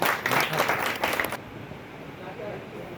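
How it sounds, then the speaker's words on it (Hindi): An audience at a business networking meeting claps loudly for about a second and a half, then the applause cuts off, leaving a quieter room. "एक बार दोनों के लिए जोरदार ताली बजाइए।"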